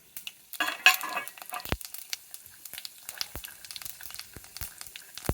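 Fenugreek and cumin seeds sizzle in hot tempering oil for Punjabi kadhi, a quiet soft crackle broken by scattered sharp clicks and taps close by.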